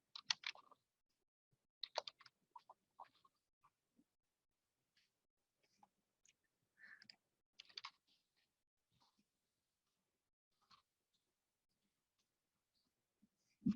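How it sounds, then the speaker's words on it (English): Soft, sparse computer keyboard typing with scattered clicks and short bursts of keystrokes separated by quiet pauses, close but faint, with no talking. "I'm just going to type out some here"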